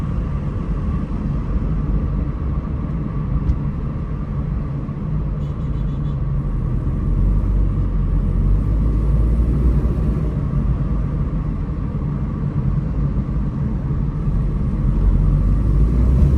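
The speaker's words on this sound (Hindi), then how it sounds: "शीशे ऊपर कर देते हैं ताकि आपको जो केबन नॉइस है वो आपको अंदाज़ा हो सके कि गाड़ी कितनी खामोश है।" Cabin noise inside a Toyota Indus Corolla fitted with a 1500cc CVT, driving with windows up, a steady low road and engine rumble that swells slightly near the end, no talk.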